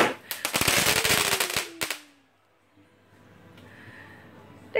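A rapid crackling barrage of firecrackers and fireworks pops for about two seconds, with a whistling streak, then drops to quiet with faint distant sounds.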